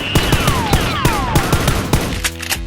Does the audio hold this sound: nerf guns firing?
yes